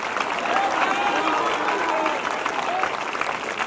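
A congregation claps steadily at a live morning prayer meeting, a dense continuous patter of many hands with voices mixed in underneath, moderately loud throughout.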